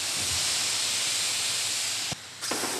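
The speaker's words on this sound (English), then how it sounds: "That's the steam being created." Steady loud steam hiss as water is sprayed onto hot biochar, continuous and close, with two brief sharp clicks near the end and no voices.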